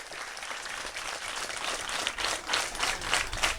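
A crowd at a donation day at Ndiegeune elementary school claps for M. Diop, a dense, continuous round of applause heard from some distance that grows slightly stronger over a few seconds.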